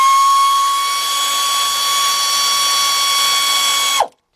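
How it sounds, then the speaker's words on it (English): A 3/8-inch drive air ratchet fitted with a 12mm deep socket, run on bolts on a 2001 Chevy Tracker 2.5, gives a loud steady whirring whine with a strong tonal hum for about four seconds before cutting off abruptly. "I got me a 12mm deep 3/8 drive socket with my air ratchet, 3/8 drive"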